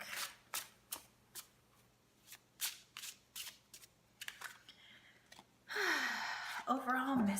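Vintage Wisdom Oracle cards are shuffled in a steady run of crisp riffling bursts, close and clear, ending in a brief rustle as a voice speaks over the last moments.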